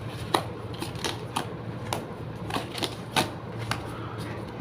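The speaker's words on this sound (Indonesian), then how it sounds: "Kita tarik 3 kartu." Tarot cards drawn from a deck make a series of sharp, irregular snaps and flicks, close and distinct, about a dozen quick clicks over a few seconds against a faint background.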